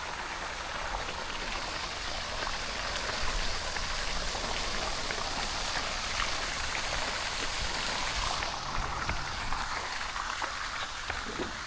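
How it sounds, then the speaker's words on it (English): Fountains splash steadily in Cliff Castle park, a continuous close wash of falling water that stays loud and even throughout with no talking. "Fountains are working in Cliff Castle."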